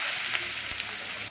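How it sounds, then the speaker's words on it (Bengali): Chopped eggplant sizzling in a pan after a tempering of asafoetida, a steady broadband hiss of frying with faint stirring clicks, close and continuous, no talking. "আমি দিয়ে দিচ্ছি কুচো করা বেগুনগুলো।"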